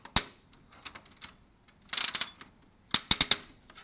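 A Barbie toy typewriter runs its mechanism with sharp mechanical clacks and short whirring ratchet bursts in irregular clusters, close and crisp against a quiet background.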